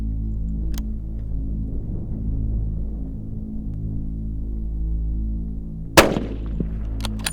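A single loud, sharp rifle shot rings out while hunting a ram on the plains of Namibia. It cracks near the end after several seconds of low, steady hum and faint rustling, followed by a brief echoing tail.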